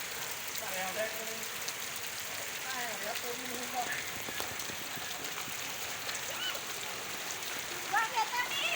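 Steady rain hiss fills the clip in a village with water on the roads, with faint voices and scattered clicks underneath and a few brighter drips near the end.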